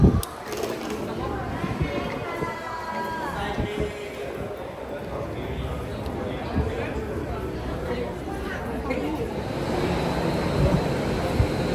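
An airport shuttle train rumbles along with a low mechanical drone and rattling, plus a rising whine partway through, heard fairly faint and steady over several seconds.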